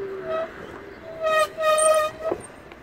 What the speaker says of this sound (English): Ooh, the brakes are very squeaky,